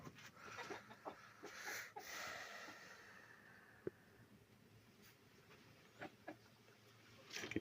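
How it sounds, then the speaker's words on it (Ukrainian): Faint clucking from young roosters in a cage, with scattered soft calls and a few brief sharper noises over a quiet background. "Півники он."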